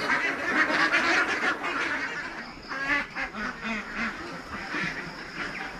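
A pen full of ducks at feeding time on a large duck farm, with dense overlapping quacks and honks from many birds, loud and close, continuing throughout.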